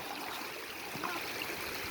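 Steady rushing of floodwater, close and continuous, like a small stream running over rocks, with no voices.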